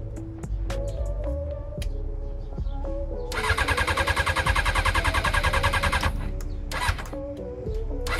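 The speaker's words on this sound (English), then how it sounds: "as you saw there, the bike is not starting up" Honda CBR600 F4i motorcycle engine cranking repeatedly without catching, a rapid rhythmic starter whirr lasting a few seconds between shorter clicks and attempts, heard close.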